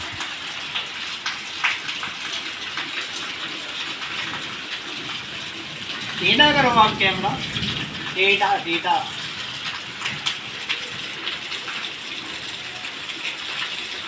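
Waterfall water splashes and gushes steadily around someone bathing beneath it on a rainy day. Loud, close chatter breaks in around the middle, then the constant rushing noise carries on alone.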